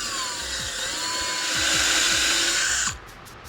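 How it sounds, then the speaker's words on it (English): A 1/4 inch drill bit countersinks a hole for a rivet head on a race car door hinge install, a close, steady whining drill motor with a rising pitch that cuts off sharply near the end. "So I use a 1/4 inch drill bit. I'm just gonna countersink that in"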